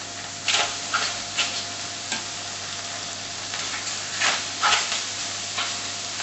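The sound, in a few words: Thai flavoured pork chops searing oil side down in heated pan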